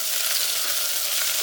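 Garlic, green chillies and curry leaves sauté in a hot pan, giving a steady, bright sizzle that stays even and fairly loud throughout, with no voices.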